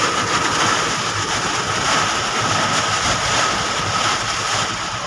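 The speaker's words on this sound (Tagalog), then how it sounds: "lakas ng ulan dito sa Skyway" Heavy rain and strong wind on the Skyway elevated highway, a steady loud broadband roar and rush of downpour and gusts buffeting the microphone, with no talk.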